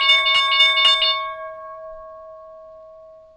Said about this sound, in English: That was the opening bell.